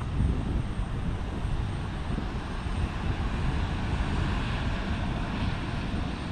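Airplane engine roar during departure at Portland airport, a loud, steady broadband rumble sustained throughout with some wind noise and no talk.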